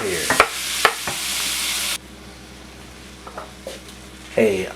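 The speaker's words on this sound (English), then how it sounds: "once you got your ground beef stirred up" Ground beef frying in a pan for taco mac and cheese, stirred with a few sharp scrapes and clacks of the utensil early on over a steady sizzle, then a quieter, fainter sizzle with occasional light knocks, ending in another burst of stirring.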